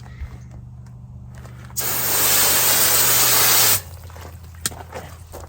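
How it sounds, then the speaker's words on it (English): A loud burst of water spray rinses a car wheel with a whitewall tire, hissing for about two seconds, then cuts off, with quiet background noise before and after. "I'm gonna rinse the wheel off real quick before I spray it"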